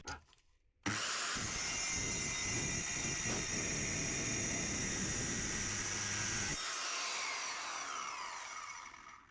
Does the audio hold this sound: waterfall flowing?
no